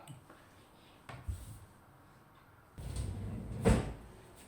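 A kitchen cupboard door is opened and shut close by, with soft knocks and a muffled closing thud near the end, in a quiet room with no talking.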